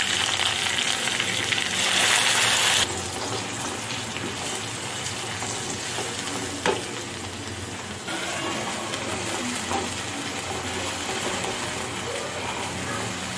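Mixed masala paste with mint and coriander sizzles and fries steadily in hot oil for a chicken curry, a dense continuous crackle with a louder burst early on and occasional stirring scrapes.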